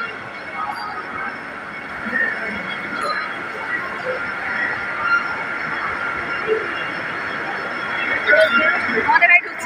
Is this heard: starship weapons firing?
no